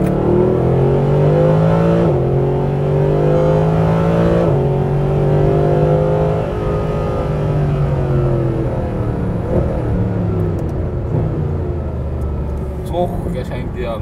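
A 2014 Mercedes-Benz SLS Final Edition with a naturally aspirated engine accelerates hard, its loud, close engine note climbing and dropping through several gear changes while a voice talks alongside.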